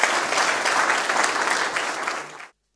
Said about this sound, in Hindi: इनका ज़ोरदार तालियों से स्वागत किया जाए